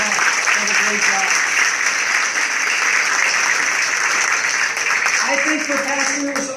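Sustained applause from a conference audience clapping for their pastor, dense and steady throughout, with a voice speaking over it toward the end.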